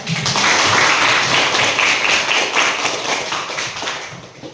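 Classroom applause for a student: a room of pupils clapping steadily and fairly loudly for several seconds, then the clapping thins out at the end.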